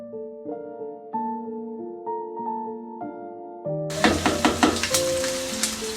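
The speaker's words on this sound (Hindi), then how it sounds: "प्याज ब्राउन होने तक इसको साथ साथ हिलाते रहें" Onions frying in oil in a pan while being stirred until brown for a chana dal recipe, first a quiet scrape and clatter, then a loud, steady sizzle bursting in with spattering crackles.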